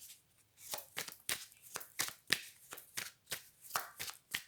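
Playing cards shuffled and handled during a tarot-style card reading, a close, crisp series of riffling snaps and slaps in an irregular rhythm, heard alone without talk.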